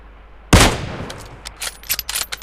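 A single sharp, loud M416 shot in a PUBG mobile game, followed by quieter rapid gunfire bursts and clattering game effects, with no talk.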